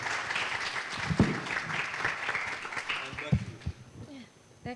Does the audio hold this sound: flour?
no